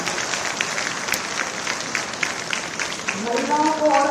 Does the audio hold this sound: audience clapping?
yes